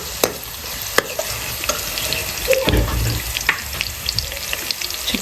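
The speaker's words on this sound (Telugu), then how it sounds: "ఆనియన్స్ వేసుకున్న తర్వాత లైట్గా వేయించుకోవాలి." Onions with curry leaves fry lightly in oil in a pan, giving a continuous even sizzle broken by occasional sharp spatula taps and stirring scrapes nearby.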